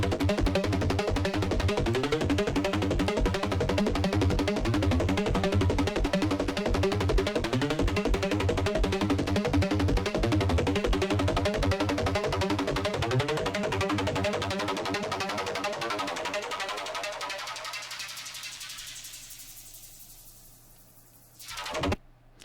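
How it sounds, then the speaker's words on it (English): A techy neurofunk arpeggiated synth patch plays MIDI notes in a busy, rhythmic, gritty sequence for about fifteen seconds, then fades into a low tail ending in a short click. "Today we're going to be doing some pretty techy neurofunk kind of arpeggiated rhythms"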